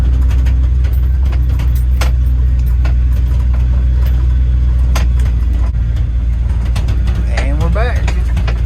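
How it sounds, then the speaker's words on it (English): Old 1975 Chevy C30 truck rolling down a bumpy road, a loud steady low engine and road rumble with cab rattles and clicks, a voice speaking over it. "I think that's just old truck noise."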